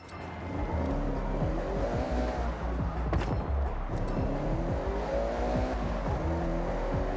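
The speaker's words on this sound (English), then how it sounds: "this car sounds nice." A car engine drives steadily in Forza Horizon 6, revving and shifting through gears with rising and falling pitch, loud and continuous, with a brief tire squeal partway through.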